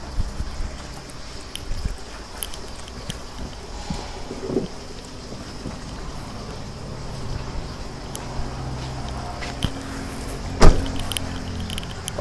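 Rear tailgate of a 2013 Chevrolet Trailblazer opening, heard as a few clunks and a sharp latch click over a steady motor-like hum and wind noise, with the loudest click near the end.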